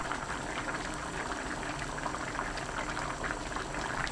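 Potato porridge with scorched rice bubbles vigorously in a pot over high heat, a dense continuous bubbling and sizzling, close and steady with no talking.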